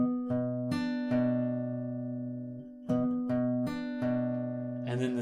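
Acoustic guitar fingerpicking an arpeggiated pattern, plucking paired and single strings in a steady, ringing sequence with sustained harmonic notes, played close and clear with no talking.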